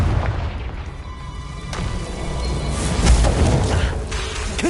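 Confringo fire spell blasts in Hogwarts Legacy, a loud continuous rumble of booming explosions with a few sharper bursts rising toward the end, close and dense.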